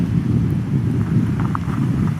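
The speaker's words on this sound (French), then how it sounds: "c'est le vent qui souffle dans les arbres." Steady wind rushes through trees on a cold winter hike, a dense low roar buffeting close to the microphone throughout with no talking.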